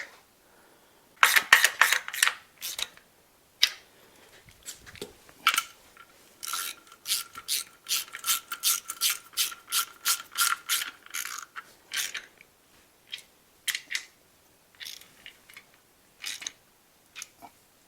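Ratchet wrench tightening the engine mount bolts on a 1967 Chevelle receiving a 5.3L LS engine, heard as close, rapid bursts of crisp clicking with short pauses between strokes and no talking.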